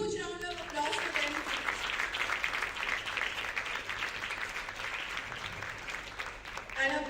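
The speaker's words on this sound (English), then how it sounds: "Can we have a huge round of applause for them?" A large audience applauds the jury members at a competition finale, sustained dense clapping for about seven seconds, fading slightly near the end.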